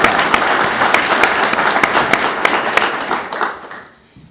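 An audience at a 2014 scholarship awards ceremony in Wadsworth applauds an award recipient, a dense, loud wash of clapping that holds steady for several seconds and then fades away.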